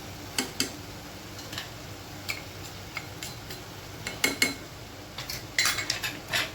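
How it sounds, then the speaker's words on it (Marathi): A spoon stirs turmeric, cumin powder, coriander powder and Agri masala in a metal pot, giving sparse, irregular clinks and scrapes against a quiet background. "आणि याला आपण छान असं फिरवून घेऊ"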